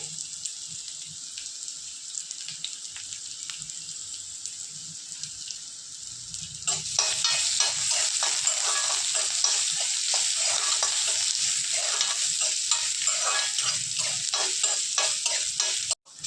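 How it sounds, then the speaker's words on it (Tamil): Chopped ginger hits a hot pan and sizzles loudly while being stirred, with scraping stir strokes over a steady frying hiss. The hiss swells sharply partway through after a quieter opening. "எடுத்து வச்ச இஞ்சி நறுத்து வச்ச இஞ்சியும் போட்டுக்கிறேன்"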